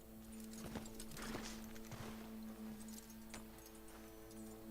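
Horse hooves clip-clop in Red Dead Redemption II as the rider arrives at camp, a few scattered muffled steps over a steady low game hum and ambient bed, fairly faint.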